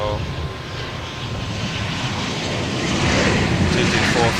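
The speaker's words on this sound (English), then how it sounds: "Here's a Velocity landing" A Velocity airliner lands at Adelaide Airport, its broad jet engine roar loud and steady throughout, swelling slightly toward the end.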